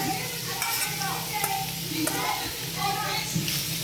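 A shrimp sizzles steadily in a hot frying pan, a close, continuous crackle with soft bubbling pops and occasional brief stirring sounds.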